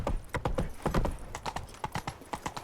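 Roach, Geralt's horse in The Witcher 3, gallops with rapid, crisp hoof clip-clops in an uneven rhythm, close and clear with nothing else over them.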